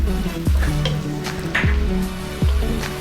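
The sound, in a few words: crushed garlic sizzling as it is added to the pan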